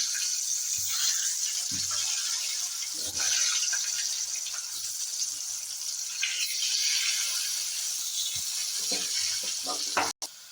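Potatoes fry in hot oil seasoned with salt and turmeric for a Bengali chicken curry, giving a steady loud sizzling hiss with a few soft clatters from the pan.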